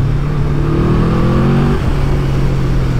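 A Yamaha VMAX motorcycle engine pulls hard under acceleration, its loud close drone climbing in pitch then easing off as the revs settle, steady road and wind roar underneath.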